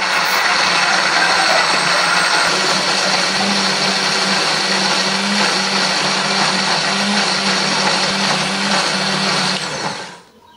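A kitchen blender grinds chili, shallots, garlic, candlenuts, turmeric and cumin with a little water, a loud steady whirring drone that runs unbroken for about ten seconds and then cuts off abruptly.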